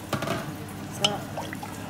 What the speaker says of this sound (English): I'm going to add enough water for the chicken and the rice to be cooked.